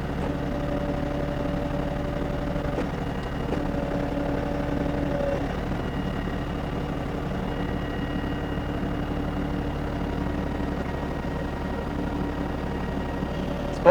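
A tractor engine holds a steady 1500 RPM with a grapple attachment fitted, a constant droning hum with faint tonal whine that shifts slightly in pitch partway through, close by and with no talking.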